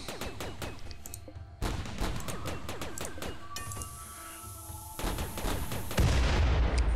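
Defensive turrets in RimWorld fire rapid bursts of gunshots, sharp repeated cracks in quick volleys with brief pauses between, fairly loud and alone without talk.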